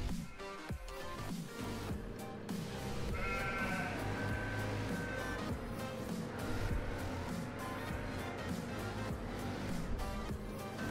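Sheep bleat repeatedly in the Landwirtschafts-Simulator 17 farming game, several overlapping calls close by over a steady, loud background of game ambience and music.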